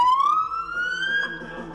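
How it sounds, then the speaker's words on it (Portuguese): A police car siren wails close by, its tone sweeping upward in a long rising note, loud and sustained, with faint voices underneath. "A viatura chegou"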